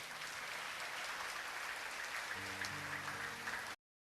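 A church congregation gives steady, broad applause that fills the room. Soft sustained music joins partway through before the clapping cuts off abruptly.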